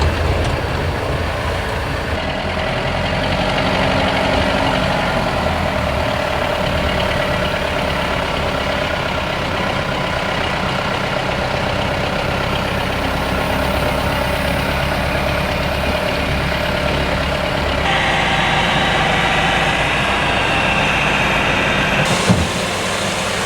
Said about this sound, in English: I think I'm going to drive the rock saw down and see how it's going.